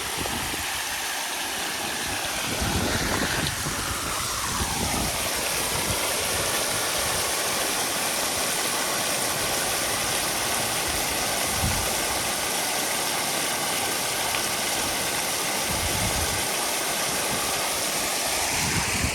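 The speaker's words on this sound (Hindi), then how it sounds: "मोटर फालतू चल रही है।" A water pump motor beside a river drones continuously and loudly, a constant mechanical hum with broadband noise throughout, no voices.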